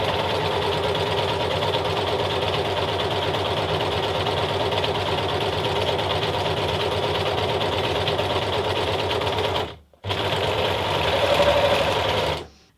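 An overlocker sewing machine stitches fabric with a loud, steady mechanical whir that runs for about ten seconds, stops briefly, then resumes before cutting off.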